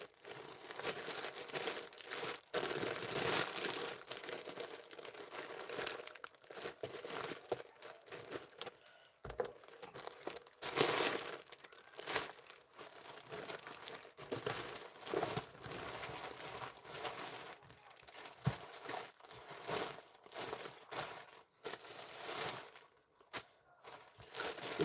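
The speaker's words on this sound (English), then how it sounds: "You can hear me rustling, can't you?" Constant close rustling and crinkling while vintage jewelry is sorted, with faint clinks and shuffling as pieces are moved and lined up, steady throughout.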